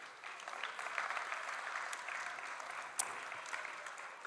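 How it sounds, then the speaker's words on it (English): Audience applause at the Swiss Coffee Festival, a fairly faint, steady wash of clapping from a crowd held at an even level for several seconds, with no talk over it. "give yourself a huge applause if you've been exhibiting or helping here anyway."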